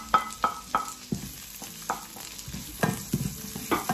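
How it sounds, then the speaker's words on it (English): Onion fries in a pan under repeated sharp clinks and scrapes of a utensil, with only a light sizzle between the strokes. "Fry the onion until"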